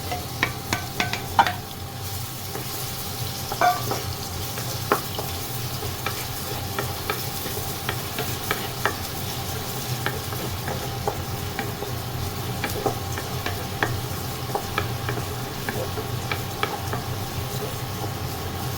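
Garlic sizzles steadily in margarine in a frying pan while a utensil stirs and scrapes, giving irregular clinks and scrapes over the continuous hiss, close and fairly loud.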